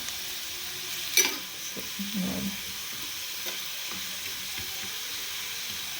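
Eggs and potatoes shallow-frying in a little oil, with a soft, steady sizzle under occasional stirring scrapes and a brief clink near the start; no one speaks.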